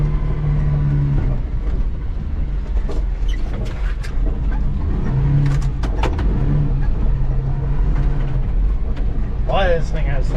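A 1993 Daihatsu Hijet S83P mini truck drives along in two-wheel drive, its small engine droning steadily and close throughout, with voices talking over it.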